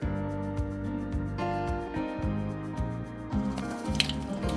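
Thick yogurt spooned into a hair mask mixture with coconut oil, making soft wet squishes and drips in a steady rhythm, close and fairly quiet, with no talking.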